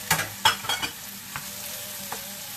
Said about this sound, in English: we're going to drop in the mushrooms and tomatoes now